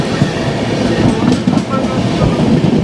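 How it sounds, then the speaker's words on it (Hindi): Purvottar Sampark Kranti Express passing close by on the Howrah–New Delhi line in heavy fog, a steady loud rolling rumble of wheels on rails with faint clatter throughout. "यहाँ पे निकली पूर्वोत्तर संपर्क क्रांति एक्सप्रेस।"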